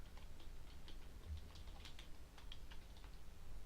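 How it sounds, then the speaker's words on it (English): Quick, fairly soft keystrokes on a computer keyboard tap in an uneven run for several seconds over a low background hum, with no voices. "Let's type in attendance range."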